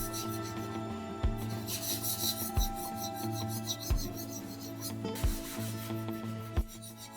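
Rhythmic sanding strokes scrape back and forth across dried gesso on a canvas, close and repetitive, each pass with a brief rasping swell, roughly one every second.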